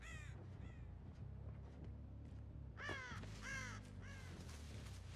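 Crows caw repeatedly in the video game Dead by Daylight, a killer match, with several harsh caws in quick bursts, the loudest near the middle, over a steady low game ambience.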